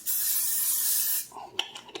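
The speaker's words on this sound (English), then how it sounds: "And I'm going to put down the butter spray," Butter cooking spray hisses onto a hot skillet being readied for zucchini sliders, a steady close spray lasting about a second before cutting off into faint clicks and a light sizzle.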